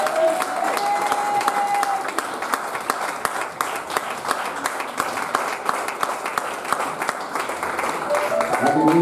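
Church congregation applauds and acclaims Jesus with sustained, dense clapping throughout, mixed with crowd voices and shouts of praise; the worship sound is loud and steady.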